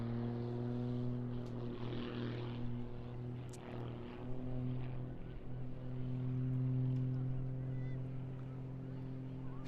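A small aerobatic propeller aircraft performs at the Eastbourne International Airshow, its steady buzzing drone carrying from a distance and rising and falling slightly as it flies.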